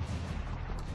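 Muffled gunfire in the top-down shooter Halo: Spartan Assault, a low, rumbling flurry of fire heard faintly for a short moment.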